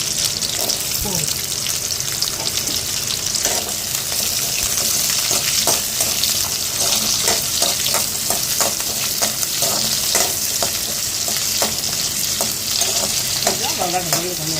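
Onions sizzle loudly in hot oil for a village-style country chicken curry, a dense, continuous hiss with scraping stirs throughout.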